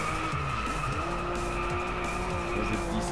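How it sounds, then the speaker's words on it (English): A car engine drones steadily while tires skid and squeal continuously, loud and close, in the racing game DRIVECLUB. "Engine has a very nice noise as well."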